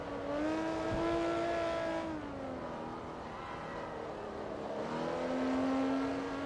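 A Ferrari engine in the racing game Forza Motorsport 2 revs and holds a sustained, fairly faint tone, dipping and rising again as it changes gear through the lap.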